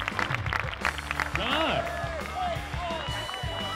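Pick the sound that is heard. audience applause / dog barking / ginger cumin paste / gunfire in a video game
audience applause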